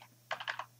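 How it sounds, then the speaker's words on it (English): Quick burst of clicks on a computer keyboard, several close, crisp keystrokes in a row after a short pause, faint and heard alone. "You type in"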